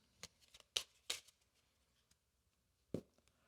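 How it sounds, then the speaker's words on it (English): Board game cards from Tainted Grail: The Fall of Avalon being shuffled back into a diplomacy deck, heard as a few short, crisp riffling bursts close by with quiet gaps between, no talking. "We take our cards, shuffle them back into our diplomacy deck"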